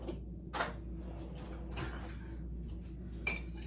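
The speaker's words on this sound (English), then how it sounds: "I should get a spoon so I can mix this up a little" A spoon is fetched in a home kitchen during breakfast quesadilla prep, with cutlery and dishes clinking in a few short, bright bursts spread across a quiet room, with no talking.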